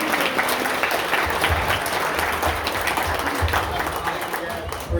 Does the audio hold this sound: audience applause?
yes